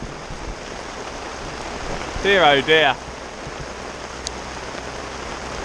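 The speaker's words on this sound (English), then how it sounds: "It's hailing!" Hail falls steadily onto water outdoors beside a carp fishing spot, giving a constant fizzing patter throughout, with a brief spoken exclamation in the middle.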